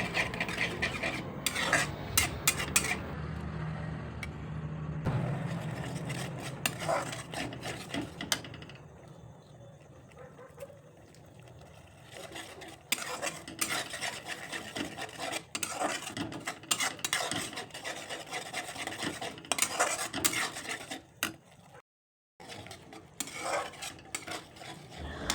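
Peanuts, onion and ginger-garlic paste are stirred in a pan, with a spoon scraping and clinking against metal over a low sizzle, close and continuous with brief pauses.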